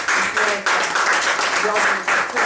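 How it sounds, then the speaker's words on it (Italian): An audience at an award event applauds the director in loud, dense bursts of clapping that dip briefly and swell again, with voices mixed in. "Un applauso al regista"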